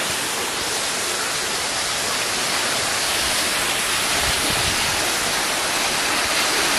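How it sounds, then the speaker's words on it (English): A waterfall in Nice, in the South of France, roars as a loud, dense, unbroken rush of falling water that stays constant throughout, with no voices. "Waterfall in Nice"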